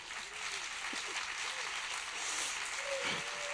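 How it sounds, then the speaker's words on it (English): Audience applause at an event launch, a broad steady wash of clapping that swells slightly mid-way, with faint voices and a brief whistle or cheer near the end. "another round of applause for Jess Irwin and Steve Dalby"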